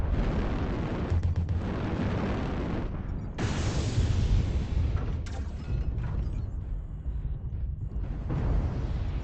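Artillery strike explosions in the video game MechWarrior Online: a dense, continuous run of loud rumbling blasts and booms, with a brief lull before a fresh burst and a thinner stretch of crackling toward the end.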